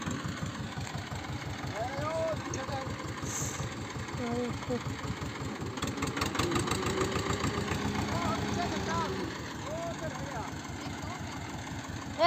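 A tractor engine idles with a steady, rhythmic chugging that runs throughout, while people talk nearby.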